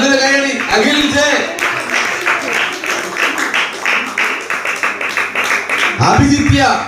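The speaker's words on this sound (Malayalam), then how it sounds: "നല്ലൊരു കൈയടി." Audience applause at a 2022 Vacation Bible School event in Eruthavoor, Balaramapuram, a steady run of dense clapping lasting several seconds, with a voice speaking over it at the start and end.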